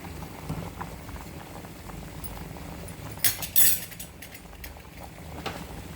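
Lentils boiling in a pot with turmeric and oil, a soft steady bubbling and popping with a few louder splutters and clinks midway.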